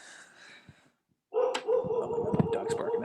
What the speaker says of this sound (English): dog's barking at nothing